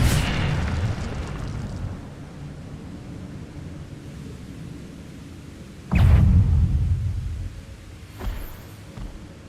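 Fire spell Incendio cast in Hogwarts Legacy on PS5: a loud burst at the start fades into a rushing roar, then a second strong whooshing blast near the middle and a smaller flare toward the end, with no talk.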